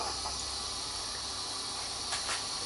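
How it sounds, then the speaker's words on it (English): Two salmon fish cakes sizzle in a pan of vegetable oil alongside tomatoes, giving a steady, soft frying hiss with faint crackles and no voices. "I'm frying 2 of the fish cakes now"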